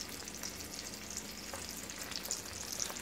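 Chicken breasts cook slowly in a pan with a soft, continuous sizzle and occasional faint pops and spatters, fairly quiet and close with no talking.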